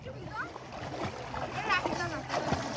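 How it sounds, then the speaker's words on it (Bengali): A boy swimming in the Karatoya river splashes the water in irregular, close bursts, while nearby voices talk and call over the splashing. "দেখো তো ছেলেটা দুর্দান্ত ভাবে সাঁতার কাটতেছে।"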